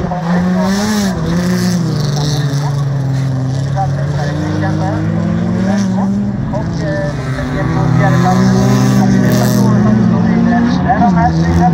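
Race cars competing in a heat at Vimmerby, among them a black Saab, engines droning and revving with some tire noise throughout, heard under continuous Swedish commentary.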